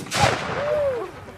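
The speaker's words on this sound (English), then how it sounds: "It's called a pole gun, because it's a gun on the end of a pole." A pole gun, a small gun mounted on the end of a pole, fires a lead pellet at an outdoor craft festival: one sharp muffled bang followed by a brief whistling tone, heard at moderate distance.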